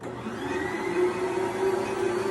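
An old dough mixer churns wheat bread dough with flour, giving a steady motor hum with a constant drone throughout, close and moderately loud, with no talk.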